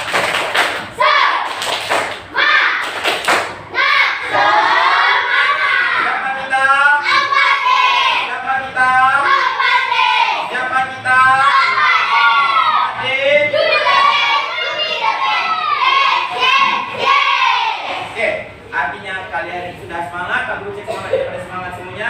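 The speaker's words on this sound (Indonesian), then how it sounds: "kita tepuk semangat terlebih dahulu. Tepuk semangat!" A group of Indonesian schoolchildren in a classroom chant together with rhythmic hand claps and thumps, loud and lively, filling the room with energetic patterned clapping.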